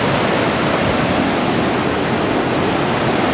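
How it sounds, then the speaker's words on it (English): A waterfall on the Fuji River in Japan, heard from the riverbank, gives a steady, loud, full roar of rushing water that holds unbroken and close for the whole stretch, with no voices. "I want to look closely at these impressive falls where this is the Fuji River."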